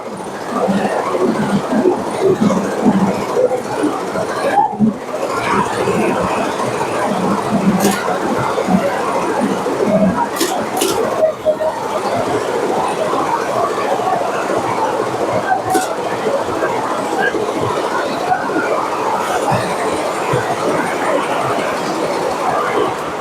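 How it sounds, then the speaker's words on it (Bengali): A high-speed 28-head embroidery machine stitching Indian-style designs runs with a loud, continuous, rhythmic mechanical clatter and rumble, steady throughout with a few brief sharper knocks. "আমাদের মেশিন হচ্ছে যে কি হাই স্পিড আঠাশ শেটের মেশিন"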